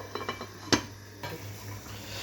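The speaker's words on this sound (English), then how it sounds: "We stir the mixture up to make sure all the vegetables are spread evenly." Stirring a vegetable stew mixture in a pot, with a few soft scraping and clinking touches of a utensil against the pot and one sharper knock, close by and fairly quiet.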